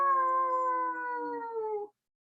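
A group of people in a yoga class howl like wolves, voices imitating the animal. One sustained, fairly loud howl holds steady for about two seconds, then cuts off into silence.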